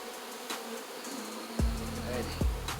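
Bees drone steadily in an open bucket-style beehive, a close continuous hum with a couple of low knocks as the hive is handled.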